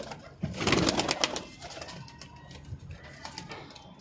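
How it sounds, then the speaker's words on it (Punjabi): Rampuri pigeons coo in a loose pen, the low throaty calls rising loudest early and then repeating more softly, with scattered clicks and shuffling around them. "ਬਹੁਤ ਤਗੜੇ ਕਬੂਤਰ ਜੀ"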